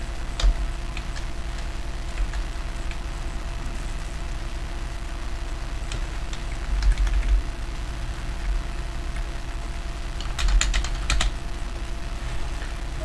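Typing on a computer keyboard while editing an AI image prompt, heard as scattered clicks and short bursts of keystrokes over a steady low hum, alone with no talk, with busier clusters near the end.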